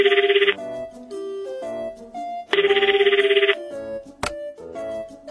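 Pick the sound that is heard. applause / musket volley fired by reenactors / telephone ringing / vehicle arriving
telephone ringing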